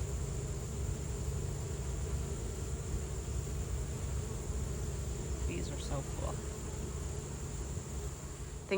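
A steady, close buzz of bees hums continuously from start to finish, with faint brief chirps near the end.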